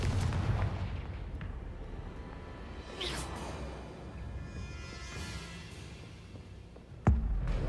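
Rumbling fiery blasts and whooshes from a Confringo fire spell in the video game Hogwarts Legacy, with a heavy boom near the start, swishes around three seconds and a sharp impact near the end, loud and close.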